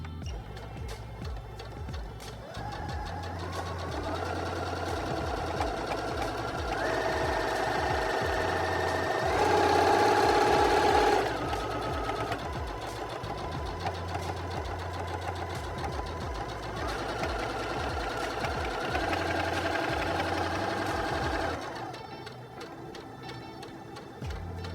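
A Singer 6805C sewing machine runs at low speed in a long steady whirring stretch with a slightly faster surge midway, then slows and stops near the end, close and without talk.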